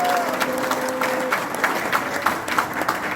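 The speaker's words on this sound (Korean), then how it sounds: "모든 분들의 힘찬 박수와 함성으로" Applause and cheering from an audience at an indoor national rally in a Seoul hall, steady and dense throughout with a few brief whistles near the start, continuous crowd clapping without pause.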